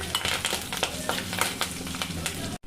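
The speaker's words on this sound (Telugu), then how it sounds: "పోపులు వేడెక్కాక కొంచెం కరివేపాకు వేసుకుందాం." Curry leaves tossed into hot oil for a tempering while making a coconut and raw mango chutney crackle and sizzle steadily, with small sharp pops over a continuous frying hiss and faint stirring, no talking.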